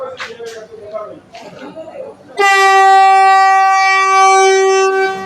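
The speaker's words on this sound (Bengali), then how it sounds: "হর্ন দিয়েছে" A voice talks briefly, then a loud Vande Bharat train horn blares in one long, sustained blast that runs to the end.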